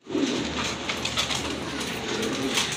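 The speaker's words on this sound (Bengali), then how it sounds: "এক জোড়া কবুতর দেখতে পাচ্ছেন, খুবই সুন্দর রেসার কবুতর" A pair of racing pigeons cooing close by, soft repeated throaty coos over a faint background hum, no talking.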